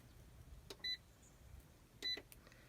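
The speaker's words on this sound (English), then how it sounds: "I don't know if those beeps are good sounds or bad sounds." Two short electronic beeps from a power inverter at an off-grid homestead sound about a second apart, each preceded by a soft click, over a quiet background hum.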